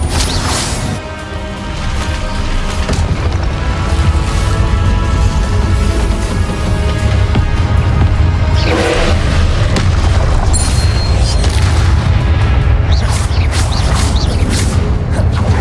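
Magic spells in the Hogwarts Legacy video game burst into a loud, dense run of booms, crashes and whooshes, continuous and close throughout with no clear gaps.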